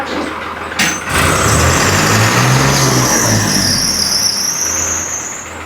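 A tractor engine revving, a short clank and then a loud sustained roar with rising and falling pitch, close by and without speech.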